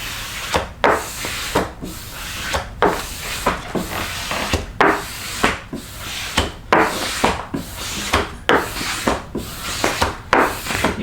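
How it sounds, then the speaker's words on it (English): A squeegee is rubbed back and forth across a custom Simpsons Tapper arcade cabinet, making rhythmic rasping strokes. About a dozen close, steady swipes repeat roughly once a second, with no talk over them. "Now I'm gonna hold this, stick it to my arm, and just squeegee back and forth."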